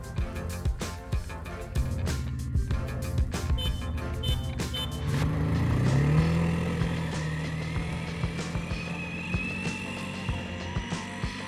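An 800cc gasoline quad and an electric Polaris Ranger UTV drag race on a flat, slippery road, a steady engine roar with rising pitch swelling near the middle and fading, plus whine and mechanical rattle.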